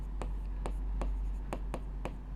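Chalk or marker strokes on a board during a maths lesson, a run of short, evenly spaced taps and scrapes close by with no talking.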